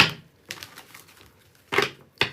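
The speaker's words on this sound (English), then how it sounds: "Shuffling here." Short papery riffles and snaps come in a few quick bursts with quiet gaps between, close and crisp, as a deck of cards is shuffled.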